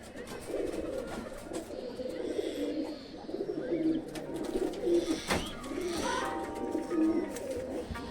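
Domestic high-flying pigeons, including a closed-tail bird, coo repeatedly in soft, throaty bursts close by, with rustling and a sharp knock partway through, and no talking.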